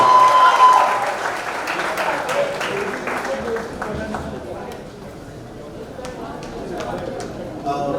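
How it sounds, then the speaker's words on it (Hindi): Loud audience applause at a pageant press event, dense clapping from a crowd that starts strong and settles to a steady level, with people talking over it. "एक बार हमारे सारे media friends के लिए जोरदार तालियां होनी चाहिए।"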